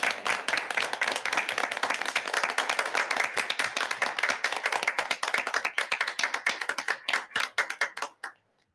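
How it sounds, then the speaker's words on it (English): Audience applause at a school board general meeting, loud, fast clapping from a crowd that holds steady, then thins to a few scattered claps and stops abruptly near the end. "Big applause."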